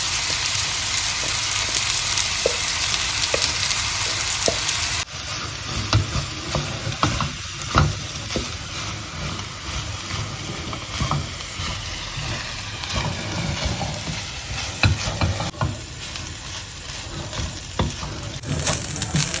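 Rice is stir-fried in a pan for egg fried rice, with a loud continuous sizzle and repeated scraping and tossing sounds from the utensil throughout.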